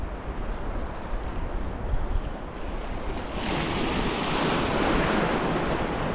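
Ocean surf breaks and washes steadily onto a fishing shore, with gusty wind buffeting the microphone and a louder wave surging in partway through; no one speaks.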